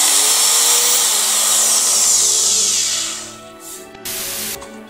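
An angle grinder freshly greased runs at full speed, a loud close high-pitched whine that winds down as the disc spins to a stop, followed by a couple of short clicks and a brief burst of noise.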